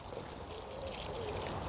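Water pours steadily to soak dry plants on a no-dig allotment, a continuous close trickling and splashing that holds even throughout with no talk over it.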